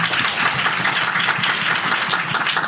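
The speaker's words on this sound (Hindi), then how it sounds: "ये सच है तो ताली बजाएं फिर।" Congregation at a church service breaks into steady, dense applause, a continuous wash of many hands clapping close and loud with no talk over it.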